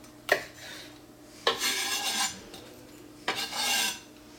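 A knife trims the bottom of a pineapple in three separate close cuts. Each is a short scraping, rasping stroke, with quiet gaps between them.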